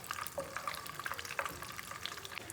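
Cardamom pods roasting in ghee for milk-based semolina halwa give off a soft, bubbly sizzle with small crackles and pops, quiet and steady throughout.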